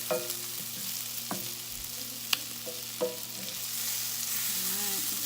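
Onions and sweet potatoes cooking down in a pan for a vegan enchilada lasagna, a soft continuous sizzle broken by a few sharp utensil clinks and scrapes, close and alone.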